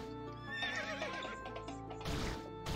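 Horses neigh and whinny in the Turovero video game, a loud overlapping cluster of squeals running the whole 2.8 seconds, with clip-clop hooves underneath and fresh bursts near the end.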